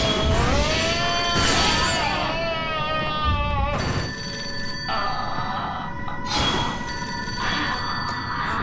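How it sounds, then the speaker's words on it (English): A telephone rings repeatedly in the video game Fatal Frame 5, with steady electronic bell tones running through the whole passage over a layer of game background noise. "Phone's ringing."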